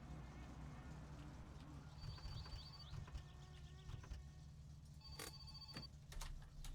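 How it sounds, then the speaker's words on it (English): A phone rings in short repeated electronic bursts over a steady low hum and background game noise, fairly faint, in the video game My Summer Car. "I hear a phone call."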